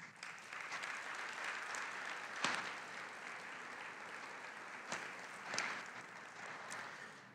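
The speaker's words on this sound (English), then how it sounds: "warm applause, not just for the people who made it happen, but also for the Quinn board" Warm applause from the audience at a church diocesan council, a steady, fairly faint patter of many hands that runs throughout with a few louder swells.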